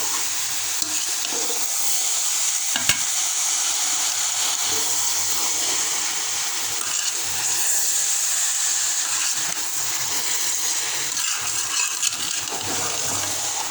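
Rice is gently stirred into melted sugar in a pot for Pakistani mutanjan, producing a continuous soft sizzle and scrape with an occasional utensil clink against the pan.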